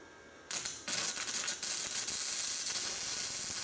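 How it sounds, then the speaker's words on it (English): Flux-core arc welding with a Harbor Freight Titanium Flux 125 welder running .030 E71T-GS wire at maximum voltage and wire speed, a steady loud crackling sizzle that kicks in abruptly, briefly stutters, then burns continuously. "I go slow watching the weld pool, making sure it melts into the sides of the joint."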